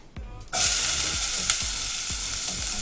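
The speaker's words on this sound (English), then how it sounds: "Just gonna hear the sizzle." Onions hit hot oil with a sudden loud sizzle that keeps crackling steadily, with soft stirring knocks underneath.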